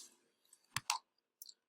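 Faint computer mouse clicks on a Submit button in a quiet room: a couple of sharp close clicks in quick succession, then one lighter click moments later.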